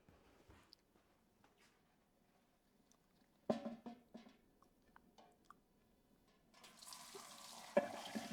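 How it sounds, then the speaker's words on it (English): Hot water being poured into a canning pot, with faint trickles and scattered splashes and clinks, quiet and close, building to a louder rushing pour near the end. "is safely get that hot water into this canner"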